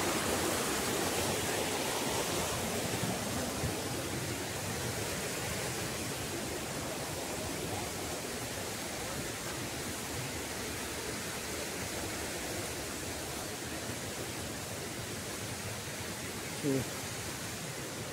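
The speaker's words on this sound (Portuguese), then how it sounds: "Correnteza forte, né?" A strong river current below the Vale das Ostras waterfall, heard as a dense, steady rushing roar of water filling the whole stretch, loud and unbroken, with a faint voice briefly underneath.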